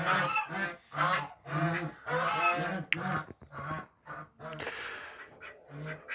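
Several Peking ducks call loudly and repeatedly close by, harsh nasal honking quacks in quick bursts with brief pauses between them.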